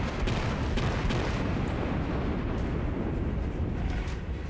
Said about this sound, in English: I did a long salvo.